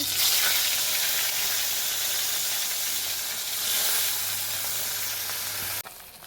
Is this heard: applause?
no